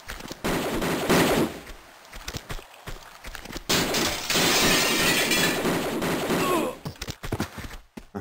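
Tomb Raider 2 Remastered gunfire, set in Venice: bursts of rapid shots with breaking-glass crashes, loud and busy, pausing briefly between volleys, with no talking.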